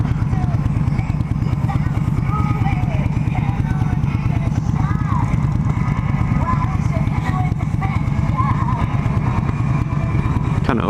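An Indian motorcycle rumbles steadily while being ridden on a demo day, its close engine throbbing with a continuous pulsing beat throughout, with faint voices heard faintly over it.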